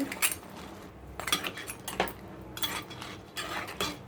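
Tamarind-soured crab curry stirred in a pot with a metal spoon: irregular close clinks and scrapes against the pot's sides, sounding in quick clusters over a quiet bubbling background.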